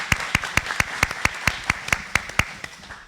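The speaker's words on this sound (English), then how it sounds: "So give them a big round of applause." A few people in a K-12 education talk audience clap for student helpers running a live stream, sharp separate claps in a steady rhythm, fairly close, thinning out and stopping after about two and a half seconds.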